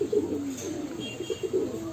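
Caged lovebirds give repeated soft cooing calls, close and steady, with no talk over them.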